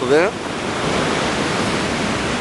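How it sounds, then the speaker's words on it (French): Ocean waves of about 1.2 to 1.3 m break on the beach at Anglet at high tide, a loud continuous roar of surf with wind, opening with a brief voice fragment before the wash fills the rest. "Et on a des vagues suivant les séries, entre 1m20 et 1m30"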